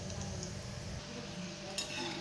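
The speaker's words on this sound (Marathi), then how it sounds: "त्याच कढईमध्ये आपण अर्धी वाटी शेंगदाणे टाकून घेऊया आणि शेंगदाणे व्यवस्थित तळून घेऊया" A steady sizzle of peanuts frying in a pan fills the clip, with soft scraping and a light clink of a utensil against the pan.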